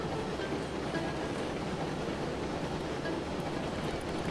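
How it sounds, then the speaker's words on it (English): A steam locomotive in the Railroads Online video game rolls down a hill, making a steady dense rumbling roar of wheels and rail noise with no breaks. "I think we might be able to get the locomotive down the hill safely."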